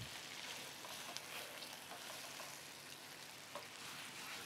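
Chicken fries in a little oil inside a clay pot, a faint, steady sizzle and crackle with scattered small pops and no voices.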